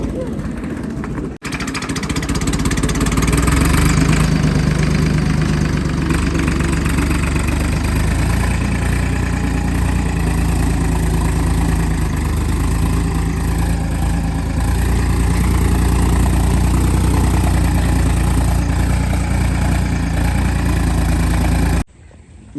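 A tractor engine idles with a loud, steady low rumble that continues without a break, close by, during rice transplanting work.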